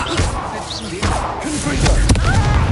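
Confringo fire spell blasting in Hogwarts Legacy, several heavy thudding impacts and crashes over a busy combat mix with voiced shouts.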